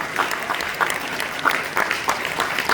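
Audience applauding at an indoor gathering, a steady dense patter of many hands at moderate loudness, with faint crowd murmur underneath.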